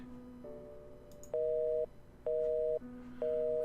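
A telephone rings in the video game The Painscreek Killings, sounding as a repeating electronic two-tone ring in short, even bursts with gaps between them, quiet and clean with no voices.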